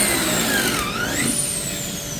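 Kreg pocket hole jig machine drilling 3/4 inch drawer front material, a steady close whine of the drill motor with a rising and falling pitch as the bit cuts, running continuously without pause.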